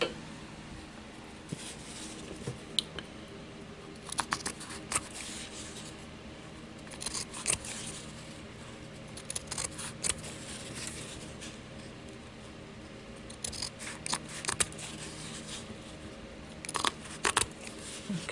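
Scissors rough-cut around a paper pattern for a sparkling gingerbread house ornament, with repeated close crisp snips and crinkling paper rubs in uneven bursts and no talking.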